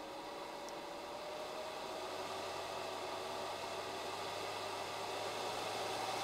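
A Dell N870P 870 W server power supply fan runs with a steady, faint whooshing hum that slowly builds in intensity, with no voices.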